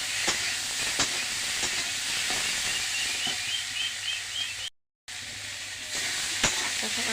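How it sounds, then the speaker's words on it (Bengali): Potatoes with turmeric powder frying in oil give a soft, steady hiss, broken by occasional light taps of stirring and one brief dropout; fairly quiet and close, no talking. "তারপর দিয়ে দিলাম এখানে হলুদ গুঁড়া। সুন্দর করে ভেজে নিলাম।"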